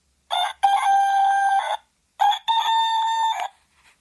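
A talking clock's alarm gives two electronic rooster crows in a row, each a bright buzzy synthesized call with steady harmonic tones, close and loud, with a short gap between them.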